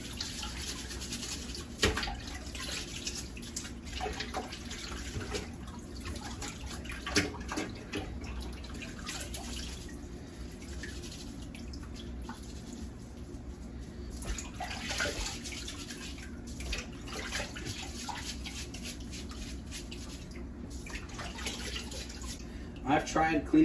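A Fluval 207 aquarium filter sponge is squeezed out in a basin of water, giving continuous sloshing, gurgling and dripping with occasional splashes while a person talks over it.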